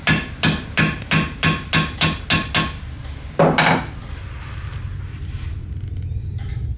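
A hammer taps a bolt held against gasket material to punch holes in a gasket for a mini bike engine. About ten quick, close, metallic taps come in an even rhythm, followed by a couple of louder knocks and then quiet.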